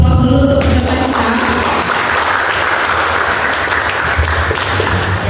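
Audience applause for quiz contestants at a final quiz competition, a steady, dense clapping that fills the hall and holds loudly throughout without speech.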